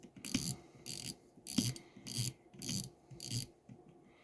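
The drag knob of a spinning fishing reel clicks faintly as it is turned counterclockwise, about seven soft ratcheting bursts in an even rhythm, close and quiet.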